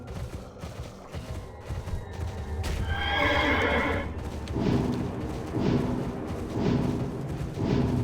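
A horse in World of Warcraft: Wrath of the Lich King Classic gives a loud, drawn-out whinny, followed by repeated thudding hoofbeats and heavy impacts in a game-like soundscape.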